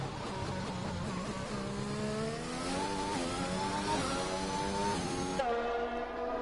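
Onboard engine note of a McLaren race car in a racing video game at the Jeddah circuit, a loud continuous whine rising and falling through gear changes, with a sharp shift near the end and no talking.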